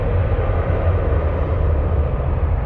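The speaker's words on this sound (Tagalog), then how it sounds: "Ang lakas ng aeroplano. Grabe, nakakabingi pala talaga oh." A loud airplane at Christchurch airport in New Zealand makes a continuous, heavy, deafening roar, close and steady with no speech over it.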